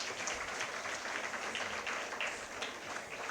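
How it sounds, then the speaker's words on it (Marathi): An audience applauds in welcome of chief guest Guru Ustad Jafar Mulla Khan at a Marathi event, giving steady, moderately distant clapping throughout with no voices over it. "त्यांचंही सहर्ष स्वागत करूया टाळ्या वाजवून."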